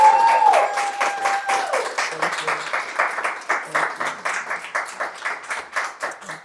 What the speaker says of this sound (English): y'all just give a round of applause for